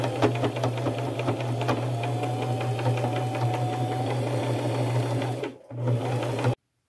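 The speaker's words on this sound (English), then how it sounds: "I'm just going to sew around the edges here." A sewing machine steadily stitches lace onto an upcycled shabby chic necklace, its rapid even hum running close and alone before a brief pause and abrupt stop.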